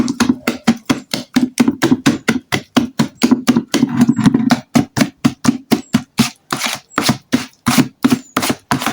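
Liquid detergent is stirred by hand until the crystals dissolve, making close, fast, evenly spaced sloshing strokes of about four per second that carry on steadily throughout.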